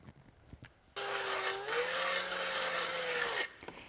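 A small grinding wheel spinning up against a rusted hole in a Ford tractor's dash, a loud, close, sustained abrasive whine lasting a couple of seconds with a slight pitch rise, bracketed by quiet handling noises.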